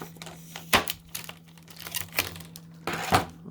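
Close crinkling of a thin, small plastic bag taped under a Funko Pop figure box, in several sharp bursts, with quieter rustling between them over a low steady hum.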